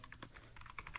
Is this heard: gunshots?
no